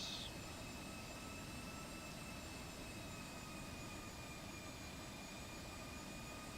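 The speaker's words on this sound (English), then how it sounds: "747 with Rolls-Royce engines." Simulated Boeing 747-451 with Rolls-Royce RB211 engines in X-Plane 11, heard as a steady, faint engine drone with a constant high whine sustained throughout.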